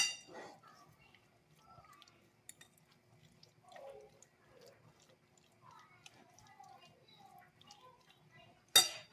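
A utensil clinks and scrapes against a dish as salt is mixed into a chicken chowmein preparation, with quiet scattered taps between louder knocks at the start and end, under soft background talk.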